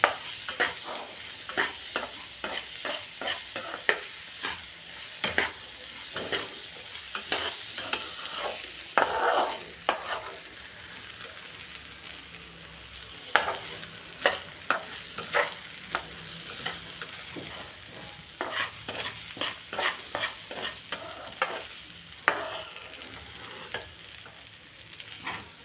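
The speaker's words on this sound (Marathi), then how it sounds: "तांदूळ भाजून घ्यायचे" Rice dry-roasting in a pan for a potato pulao, stirred steadily with a utensil: a long run of close scraping and grainy rustling strokes in an irregular rhythm, with no one talking.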